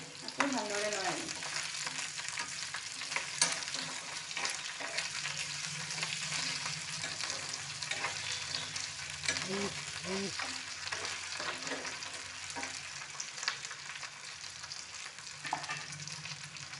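Potatoes and onions, with a few whole garlic cloves, fry and sizzle steadily in a pan while a spoon scrapes and stirs them in occasional bursts, close and continuous throughout.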